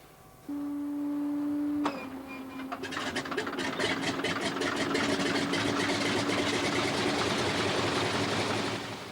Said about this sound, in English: a Pratt & Whitney air-cooled radial engine